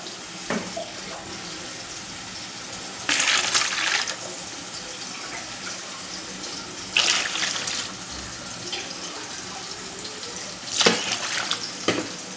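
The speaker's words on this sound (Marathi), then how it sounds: "आपल्याला 3 ग्लास त्यात थंड पाणी टाकायचं आहे" Cold water runs from a tap over hot boiled eggs in a home kitchen, three separate splashing bursts of a few seconds each, close and clear over a quiet background with no talk.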